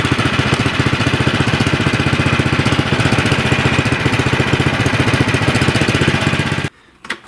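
Snowblower engine idling steadily with an even, rapid mechanical throb, loud and close, then cutting off abruptly near the end, followed by a couple of faint handling knocks.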